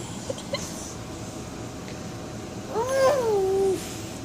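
A voice imitates a fish noise with a short rising-then-falling squeaky call near the end, alone after a few soft clicks over low background hum.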